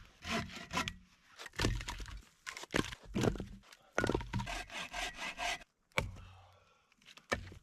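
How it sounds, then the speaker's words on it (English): Firewood being chopped outdoors at a campsite: a series of sharp, close woody strikes and cracks in an irregular rhythm, with brief pauses between blows. "Now I need to chop up some firewood"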